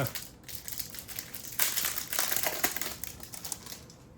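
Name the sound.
opening a wrapped pack of promotional action cards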